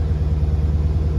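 A Dodge Challenger Scat Pack with the 392 V8 idles steadily after an oil change, a deep, even low rumble held close and constant with no revving.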